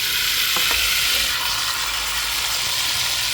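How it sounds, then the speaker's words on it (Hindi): Onions added to a pot of hot oil for biryani set off a loud, constant hissing sizzle with a few stirring knocks near the start, close up and without talking. "हम इसमें प्याज ऐड करेंगे"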